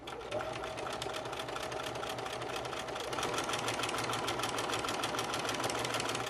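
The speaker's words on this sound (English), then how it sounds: "you're just going to slowly start stitching down that line" Sewing machine running a steady seam of shirring with elastic thread, a rapid even mechanical chatter that holds throughout and grows slightly louder midway, close up.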